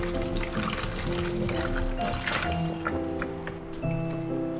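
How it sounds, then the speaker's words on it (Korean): Salt water brine poured into a container of cucumbers for making oiji pickles, a continuous splashing, trickling stream of liquid that runs steadily close by. "이제 통에 소금물을 부어주세요."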